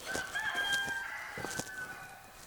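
Roosters crow one after another, their drawn-out calls overlapping, with scattered clucking from other fowl nearby.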